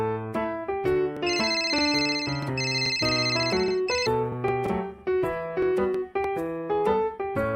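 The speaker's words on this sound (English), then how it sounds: "Oh, my phone's ringing." Phone ringing in a children's baby video game: a bright, synthesized melodic ringtone jingle with repeating tones and chimes, loud and continuous, with no voices over it.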